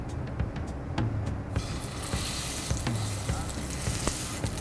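A steak searing in very hot, smoking oil in a pan, a loud steady sizzle and crackle that jumps sharply when the meat hits the pan and then holds dense and close with no talk.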